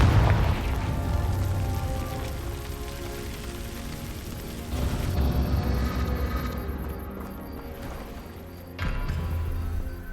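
Confringo fire spell explosions in Hogwarts Legacy: loud, sustained booming blasts with a roaring rumble that surges again around the middle and near the end, set against game ambience.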